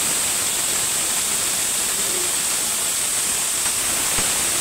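Red amaranth greens fry in a wok, giving a loud, continuous hissing steam with faint clicks of stirring near the end.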